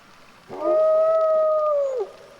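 A single drawn-out, wavering howl from a young coast wolf pup calling for its pack, rising then sliding down over about a second and a half, fairly close against quiet surroundings.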